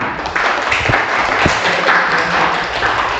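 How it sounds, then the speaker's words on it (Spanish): Steady applause from an audience at a book presentation, a dense wash of clapping hands that holds evenly for a few seconds with no voices. "Un fuerte aplauso."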